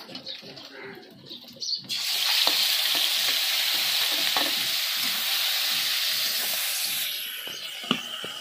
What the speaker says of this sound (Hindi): आज हम सरसों का फोरन डालते हैं सिंगी मछली में।